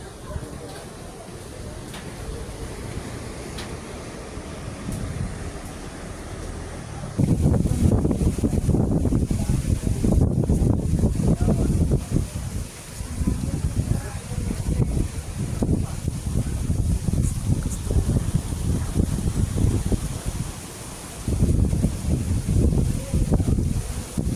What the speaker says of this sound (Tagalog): Ang lakas talaga. Ang lakas ng hangin.